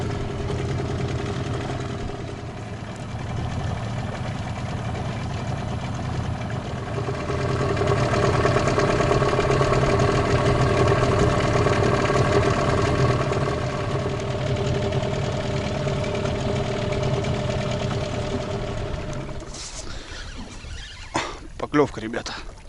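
An outboard boat motor drones steadily on a pike fishing trip near a village, rising in throttle partway through, then dropping away to leave a few knocks and clicks. Someone talks over it.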